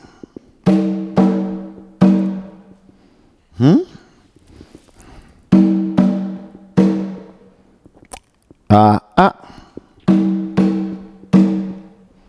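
Deep, resonant strokes on a large batá drum (enu) in short groups, each booming note decaying slowly, with a few higher sliding tones between; played alone and close.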